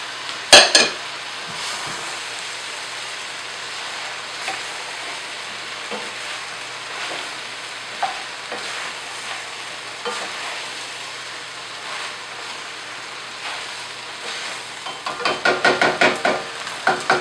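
Onion tops, zucchini and red and yellow peppers sizzle steadily as they fry in a pot, with occasional spoon scrapes and clinks against the metal, and a burst of stirring near the end.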